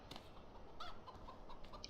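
Chickens on a farm in a farming sim video game give a few faint, short clucks and chirps over a low background hum, fairly quiet and distant.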